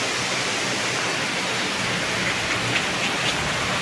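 Heavy rain pouring down in a steady, dense hiss, loud and close, with no break and no other sounds standing out.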